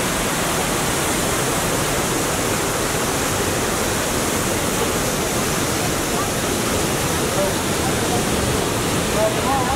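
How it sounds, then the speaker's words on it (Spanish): Waterfall in the Sainte-Anne-de-Beaupré canyon in Québec, a loud, dense, unbroken roar of falling water that fills the whole scene. "estamos llegando a la última parte del recorrido por la cascada"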